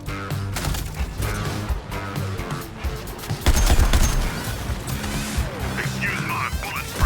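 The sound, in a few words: gunfire in a Suicide Squad video game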